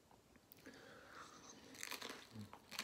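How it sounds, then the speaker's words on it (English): A close, crisp bite into a slice of Jack's frozen pizza gives a few sharp crunches, then quieter chewing, fairly faint and without talk. "Can you hear the crunch on that thing? I mean, first bite, just crispy, crunchy."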